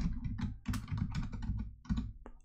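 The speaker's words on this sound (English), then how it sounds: "and now we need to type our password" Quick, uneven bursts of keystrokes as a password is typed on a computer keyboard, crisp close clicks with short pauses between runs.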